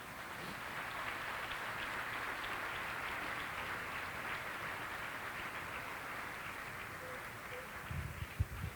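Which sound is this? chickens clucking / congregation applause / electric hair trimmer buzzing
congregation applause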